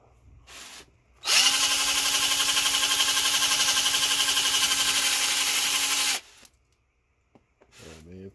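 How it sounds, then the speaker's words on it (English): Power drill boring out a cast aluminum part of a scrapped massager, a loud steady high whine running for about five seconds alone, with brief handling noises before and after. "drill this out"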